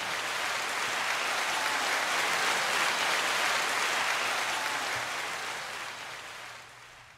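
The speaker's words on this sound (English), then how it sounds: "I would like to give a round of applause to our sponsor" Dense applause on a podcast recording, a continuous hiss-like wash of many hands clapping that swells to a peak midway and then fades out toward the end, with a low steady hum underneath.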